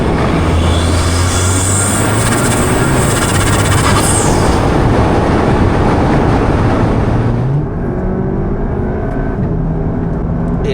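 Turbocharged 480bhp wagon accelerating hard, a loud rising engine roar with turbo whoosh and a broad rushing drone, climbing in pitch before easing off near the end.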